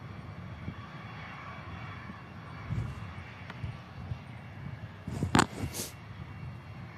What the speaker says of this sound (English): there's the Pilatus we saw going out earlier and now arriving back in at Manchester